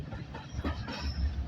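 Steam engine Titan pulling carriages from Corfe Castle to Swanage, a steady rumble of rolling wheels and rail noise heard from on board, continuous and moderately loud with no talk.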